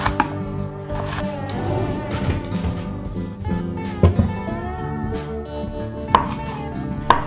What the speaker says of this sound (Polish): Jedną cebulę poszatkuj i podsmaż chwilę na oleju roślinnym.